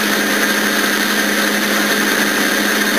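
A machine tool cutting steel on a burned Yamaha Blaster engine cylinder gives a loud, steady, unbroken whine with a broad grinding hiss, running evenly from start to finish.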